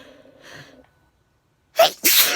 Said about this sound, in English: Well, here's my sneezing fit.